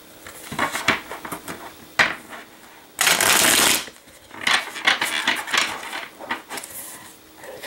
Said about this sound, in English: One more time, and then I'll cut the deck and begin the reading.